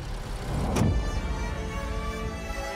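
An Alpina car fires up close by with a sharp burst of ignition and then settles into a steady engine hum as it moves off, with no talk.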